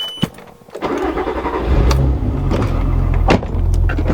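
A Volkswagen R32 engine starts and runs at a steady low idle as the car is moved, with a door or window sound at the start and brief clunks over the rumble.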